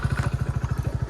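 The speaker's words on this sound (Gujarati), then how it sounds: "એક સેલે બાઇક ચાલુ થઈ ગયું" A motorcycle engine, just started, runs at a steady idle with a rapid, even chugging pulse, close and moderately loud.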